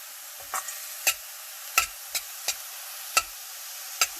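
Carrots cooking in a hot pan give a steady, soft sizzle, broken by sharp spatula clicks and scrapes that come every half second or so.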